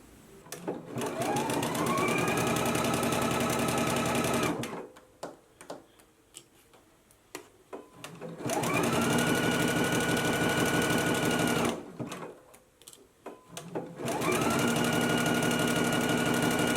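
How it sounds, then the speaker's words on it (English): Three sustained runs of a sewing machine stitching a sleeve into a loungewear top, each a loud, even, rapid mechanical hum that ramps up and stops, with quieter fabric handling between. "we're going to go to the machine and we're going to stitch between the large circles"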